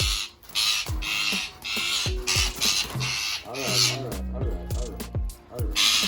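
An Indian ring-necked parrot screeches and squawks over and over in harsh, loud calls close by, with short gaps between bursts and a person's voice mixed in.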